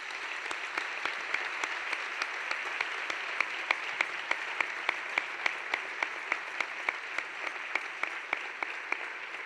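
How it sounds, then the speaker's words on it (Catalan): An audience at a Catalan song and dance event applauds steadily, with dense continuous clapping and a few sharper individual claps standing out, with no voices over it. "Ells també es mereixen un fort aplaudiment."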